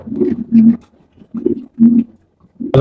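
Racing pigeons on a Bangladeshi breeding farm coo up close in short rhythmic bursts, four or five throaty rolls with brief pauses between them and no voices.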